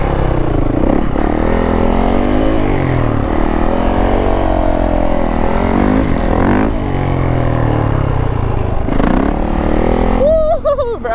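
A Yamaha YZ450F dirt bike engine runs loud and close while being ridden. A continuous throaty roar rises and falls as the rider swerves around, with no break.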